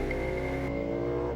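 Garry Rogers Motorsport race car at Bathurst in final qualifying, its engine holding a steady loud drone with a high whine, close and continuous.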